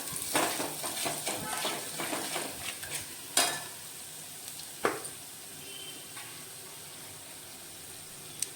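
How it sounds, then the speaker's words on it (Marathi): Red chilli powder roasts in oil in a pan for Maharashtrian katachi amti. A soft sizzle comes with quick scraping stirs early on, then it settles into a quieter hiss broken by a few sharp utensil clinks. "लाल तिखट टाका तेलामध्ये टाकते म्हणजे कट चांगला येतो म्हणून मी तेलामध्ये हे भाजून घेते"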